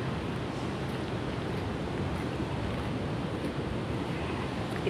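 Continuous broadband surf from sea waves along a coastal village shore, with wind rumble on the microphone, steady and fairly loud throughout with no talk.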